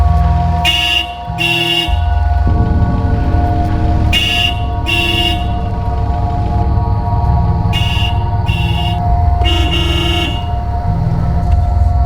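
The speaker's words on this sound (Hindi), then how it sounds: "कब से हॉर्न बजा रहा हूँ" A car horn honks repeatedly in short paired blasts, loud and close, over a steady engine rumble.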